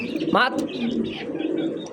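Pigeons kept for sale, local and foreign fancy breeds, coo close by in a short, low, throaty burst among soft chirps, with human voices faintly mixed in.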